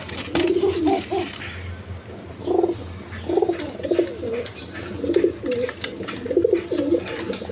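Gorra pigeons coo repeatedly at close range at a pigeon farm, soft throaty burbling calls rising and falling one after another, with faint background noise.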